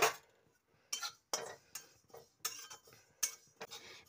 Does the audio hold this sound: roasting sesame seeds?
yes